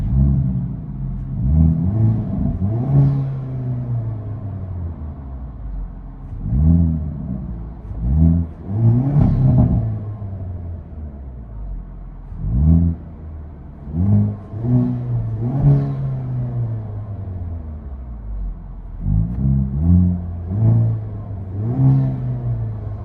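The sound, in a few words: Hyundai Kona N turbo revving, heard from inside the car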